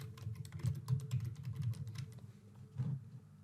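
Quick, uneven keystrokes on a computer keyboard, moderately close and fairly soft, with a short pause near the end before a final small burst of taps; no voices.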